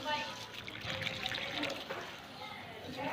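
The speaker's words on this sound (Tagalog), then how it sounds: "Malakas na yung tubig." Water gushes and splashes steadily from a tap or hose fed by a water pump with a pressurized tank, moderately close, with a voice speaking faintly over the flow.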